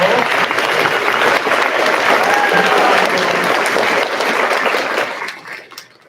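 Audience at a school winter concert applauds, a steady, fairly loud burst of clapping with some crowd murmur, holding strong before fading away in the final second.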